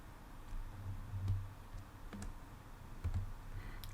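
Several sparse, quiet key clicks tap on a computer keyboard while animation frames are deleted, irregular single taps over a faint background hum.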